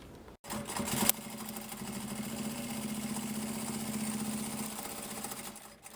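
A sewing machine stitches through layered main fabric, plastic and lining, giving one sustained, steady, close motor hum and rapid needle chatter for about five seconds after a brief clunk at the start, with no talking.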